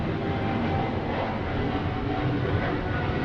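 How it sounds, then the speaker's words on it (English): A steady, distant jet airplane drone passes overhead along an outdoor trail, a faint continuous rumble with no talking. "No matter where we go, we're always going to hear airplanes."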